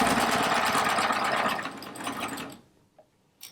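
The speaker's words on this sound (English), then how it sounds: "this 2-thread stitch, the chain stitch, this is what I use to piece quilt tops on a serger" A serger runs a two-thread chain stitch while piecing a rag quilt top, a loud steady mechanical whir for about two and a half seconds that stops abruptly, followed by a faint click.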